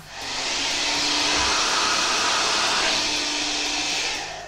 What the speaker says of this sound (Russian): если фен прикладывать плотнее, то оно быстрее стирает